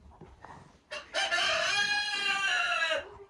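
Backyard chickens in a coop, a few soft clucks followed by a loud, close rooster crow that holds for about two seconds before cutting off.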